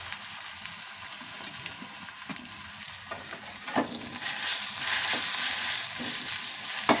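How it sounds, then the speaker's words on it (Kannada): Onions fry in a hot pan for egg pulao, a constant crackling sizzle with occasional stirring scrapes, swelling louder midway, no voices. "ಈರುಳ್ಳಿ ಹಾಕ್ಕೊಳ್ಳೋಣ."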